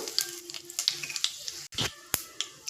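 Mustard seeds and cumin sizzle in hot oil, crackling in small sharp pops over a soft frying hiss, with one louder spatter and a crisp snap near the end.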